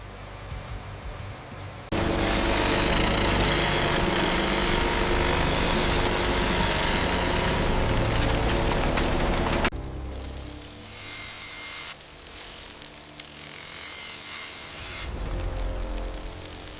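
Machine grinding hardened steel cut from scrap truck leaf springs, a loud, steady broadband roar that runs for about eight seconds, then drops to quieter, uneven grinding with brief surges and pauses.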